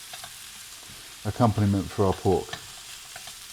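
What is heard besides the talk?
leeks sizzling and being stirred in a pan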